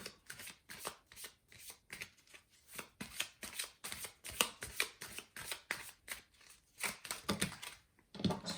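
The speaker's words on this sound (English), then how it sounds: "Let's grab another card." Tarot cards are shuffled and drawn from a deck up close, making rapid, papery riffling bursts in a brisk, uneven rhythm.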